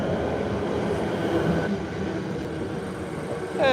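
A train pulls into Werribee Station, a steady loud rumble of wheels and carriage noise close by, with a brief rising squeal as it slows near the end.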